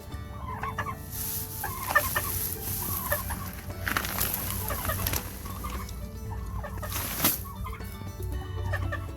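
Chickens cluck and call steadily inside a coop, with several birds close by making overlapping squawks and bursts of clucking over a constant low hum.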